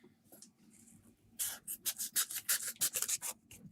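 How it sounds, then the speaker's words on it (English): Hand sanding of a fine circuit board trace with a small pad of fine sandpaper: a quiet start, then a quick series of close, brisk rubbing strokes, about a dozen in rhythmic succession. "I'll just use a little sanding pad"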